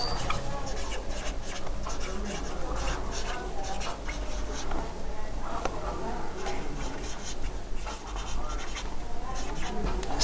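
A pen scratches across paper as journal entries are written for a company's accounts, giving soft, irregular scribbling strokes close by that run under steady talk.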